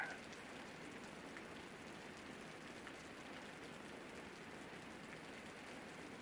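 Steady rain falling in the video game Osiris New Dawn, an even, constant hiss of drops on surfaces, soft and unbroken with no voices.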